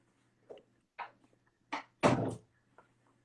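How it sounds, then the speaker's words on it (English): A door is handled and shut in a home, a few soft knocks and rustles followed by one louder thud as it closes, quiet with no talking. "Let me close the door real fast."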